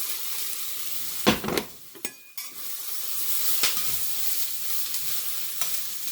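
Broccoli is stirred into a pan of sweated onions frying in oil, with a continuous soft sizzle and several scraping, clattering stirs from a utensil against the pan. No one speaks.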